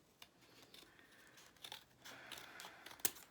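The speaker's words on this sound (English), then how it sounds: "I really don't like using these scissors on this cardstock" Scissors snipping through cardstock, close and quiet, with a few sharp cuts and crisp crinkling of the card between them.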